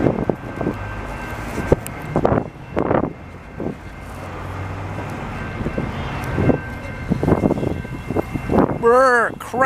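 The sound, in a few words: cold wind at Montreal commuter train station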